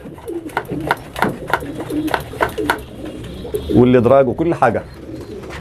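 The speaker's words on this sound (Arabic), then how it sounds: "الحمام السايب اللي طاير" Loft pigeons cooing in a soft, throaty series close by, with someone talking over most of it and the birds' calls swelling louder near the end.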